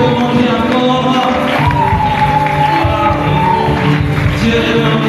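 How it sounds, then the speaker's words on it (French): Church congregation cheering and acclaiming during a worship service, loud shouts, whoops and sustained vocal tones from many people rising and falling over a murmuring crowd. "Les acclamations fortes, faire des bruits d'honneur dans sa présence"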